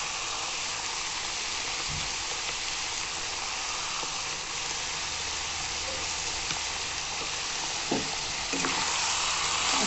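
Pork frying in oil in a covered pan while it renders its fat, a steady broadband sizzle running throughout with a few faint stirring knocks near the end, no talk.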